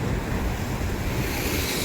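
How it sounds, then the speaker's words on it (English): Ocean surf at La Jolla, a continuous loud rush of breaking waves and backwash with strong wind noise buffeting the microphone, no voices. "A set of waves had just come in and the water was rushing back out"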